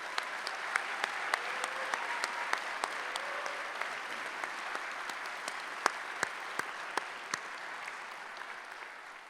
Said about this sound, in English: Would you all please join me in giving them another round of applause?